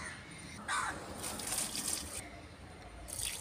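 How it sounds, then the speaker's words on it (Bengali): Garden plants, including a lemon tree, being watered, with soft splashing and trickling bursts of water coming and going at low volume, and a faint crow in the background. "এখন গাছে জল দিতে এসছি"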